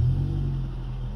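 A classic Suzuki Swift GLS small petrol car engine running after standing for a week, a steady low rumble with a slight lift at the start, then settling into an even idle, close by with no talking.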